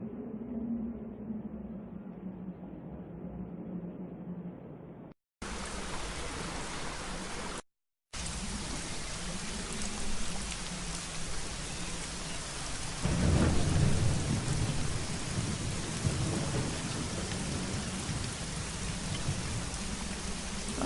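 Heavy rain pours steadily in the Secret Files Tunguska video game, a dense hiss with a deep rumble of thunder swelling midway and briefly cut by two short gaps.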